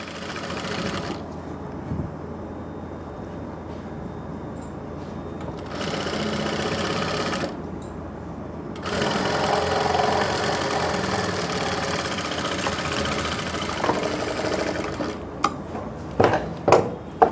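Sewing machine stitching buckram into a suit neckline, running in long steady bursts with short pauses between them and a few sharp clicks near the end.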